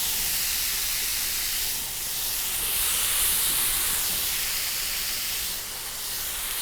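Bacon strips sizzle on a hot Deik contact grill, a steady close hiss with gentle swells in intensity, continuous and without talk.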